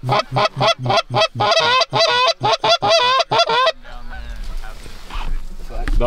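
Geese honk loudly in a rapid burst of repeated calls, then the honking stops and quieter outdoor noise and faint voices follow.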